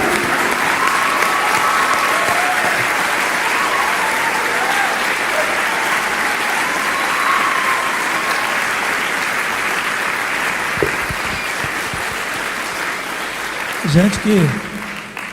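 Sustained, loud audience applause at a school inauguration event, a thick continuous clapping wash lasting most of the clip before a voice speaks near the end.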